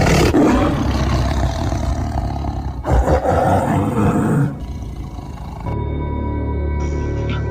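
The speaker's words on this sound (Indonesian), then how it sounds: "samar-samar juga ada suara auman harimau yang melawan" Tiger roars used as a sound effect in a spoken Indonesian mystery story, several loud, deep, drawn-out growling roars in succession before fading into a quieter low rumble.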